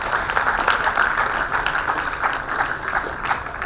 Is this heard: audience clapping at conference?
yes